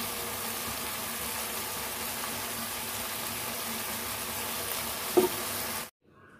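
Paneer sizzling in a pan as ghee and garam masala go in, a dense continuous frying hiss with a brief clatter near the end before it cuts to near silence.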